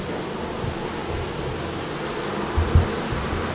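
Honey bees in an open hive of some fifteen to twenty thousand produce a steady, dense buzz close to the listener, holding an even level throughout with a couple of brief low thumps near the end.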